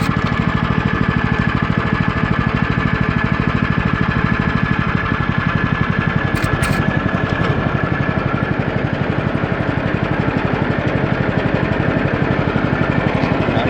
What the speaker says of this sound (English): Put in low idle. It's gonna lug in low idle when I engage it.